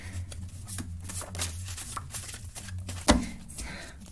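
A deck of tarot cards shuffled by hand, soft papery riffles and taps at close range over a low steady hum, with one sharper knock near the end and no talking.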